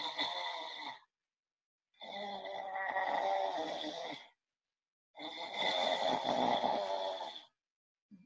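A person imitates snoring from the throat as a vocal exercise, producing three long, rasping, groaning breaths separated by silent pauses, close and fairly loud with no speech.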